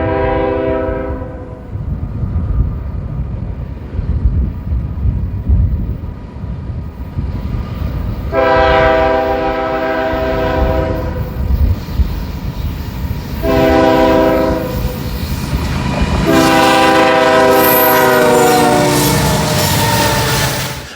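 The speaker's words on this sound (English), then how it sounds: "an X338 with ES44DC 2228 leading an SD75I had departed Waterloo" A CN freight train led by an ES44DC locomotive with an SD75I runs along the main line near Rockford, sounding its horn in loud, close long-long-short-long blasts over a continuous low rumble of passing cars.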